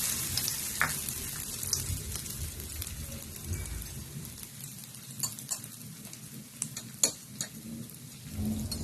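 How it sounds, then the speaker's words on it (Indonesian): Hot oil sizzles and crackles steadily with sharp pops and spatters as egg batter for fu yung hai fries in a wok, close up, with no talking. "Kita masukkan setengah adonan telur ke dalam wajan."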